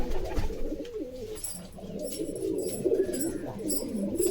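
Pigeons of assorted breeds coo continuously in overlapping low, throaty phrases, close and fairly loud, with faint higher chirps above.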